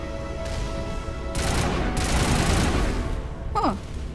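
Dense, rapid gunfire bursts from a turret in Mass Effect, loud and sustained, with a sharp rising whine near the end.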